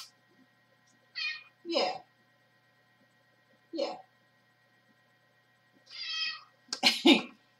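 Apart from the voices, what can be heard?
cat meowing loudly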